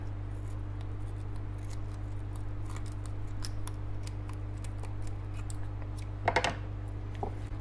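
Scissors snip through a round fish to slit the belly open for gutting, producing a run of short, crisp clicks and cuts close by, with no one speaking.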